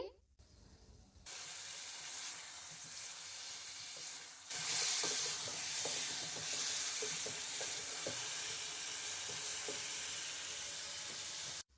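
Chicken frying in oil for a white karahi, a steady broad sizzle that grows louder partway through, with light stirring clatter and no voices.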